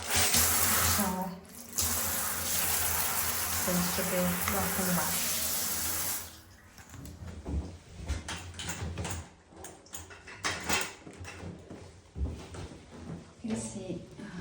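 A bathroom shower runs loudly as a steady hiss of spray for about six seconds, then shuts off, leaving quiet room sound, faint knocks and someone speaking briefly.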